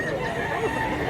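White rooster crowing nearby, a single drawn-out call held steady and moderately loud for about a second.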